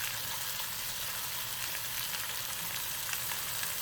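Quartered onion pieces sizzling in a pot for a pot roast, a steady close frying hiss throughout with no talk.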